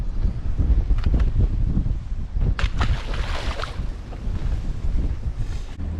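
Strong wind buffets the microphone on a boat while walleye fishing in South Dakota, a constant low roar with louder gusts and no speech.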